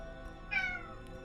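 A single cat meow, short and fairly clear, rising over a quiet background hum, with faint trailing noise afterward.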